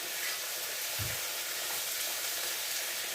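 Onion sautéing in a pan while beef is prepared, a soft continuous hiss of frying with one brief low knock partway through, fairly faint and steady.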